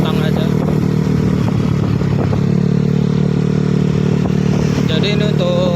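Yamaha NMAX motorcycle engine on a road test, a steady loud drone running throughout with clattering and wind noise over it, heard close from the rider's position.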